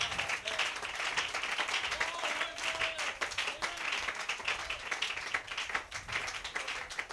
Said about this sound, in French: Donnez-lui une main d'acclamation.